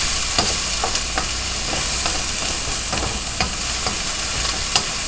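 Veggie rice chow frying in a pan, a constant loud sizzle with sharp clicks and scrapes of a utensil stirring and spreading the small pieces, close up and without talk.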